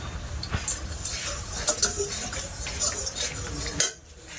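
Papad frying in a pan in a home kitchen gives a steady close crackling hiss dotted with metallic utensil clinks, then cuts off abruptly near the end.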